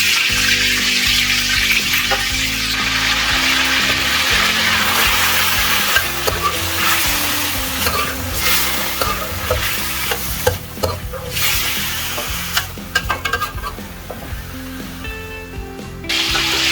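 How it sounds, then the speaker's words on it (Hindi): Chicken pieces frying in oil with ginger garlic paste sizzle loudly and steadily in the pan, with the scrape of a spoon stirring and occasional clatter of utensils, close up and without talk. "चिकन को मैं थोड़ी देर ऑयल में भून लूंगी और साथ में अदरक लहसुन पेस्ट भी डाल के वो भी साथ ही भूना जाएगा।"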